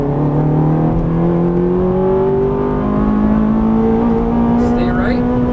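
A Ferrari 430 engine revving hard under throttle on a race track, a loud, steady, rising roar with climbing pitch throughout, heard from close by, with a driving instructor's voice likely speaking faintly beneath it.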